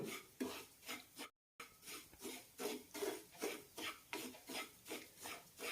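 Semolina and grated coconut dry-roasting over a low flame, stirred with steady rhythmic scraping strokes against the pan, close and fairly quiet, with a short silent break partway through.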